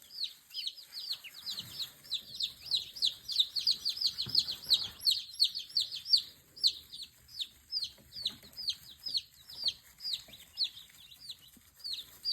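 Baby chicks and chickens on a farm keep up a rapid stream of high peeping and chirping, with some softer clucks underneath, fairly close and continuous throughout.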